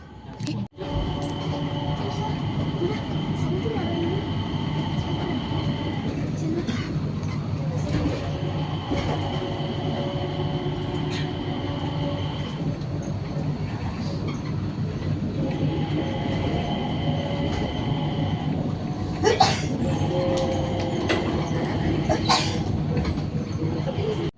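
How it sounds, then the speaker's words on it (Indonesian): A train rumbles along steadily with a tonal whine and a few clanks, and people talk intermittently over the continuous noise. "Mama kereta."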